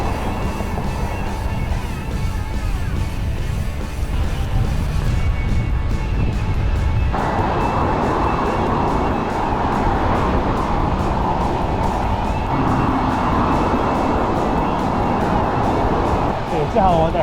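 Highway traffic roars past a cyclist riding along a highway in Vancouver toward Cypress Mountain. A constant loud rumble and hiss of passing vehicles fills the whole time, swelling and easing slightly as cars go by.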